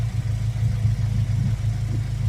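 A 2001 Acura Integra Type R engine runs at a steady idle after a valve cover job, a smooth, close, low drone with a slight pulsing and no talking over it.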